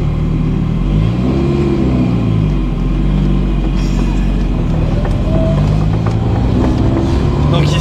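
A Ferrari 308 GTSi engine revs and pulls away, its loud, steady mid-range growl rising and falling in pitch through the gears close by.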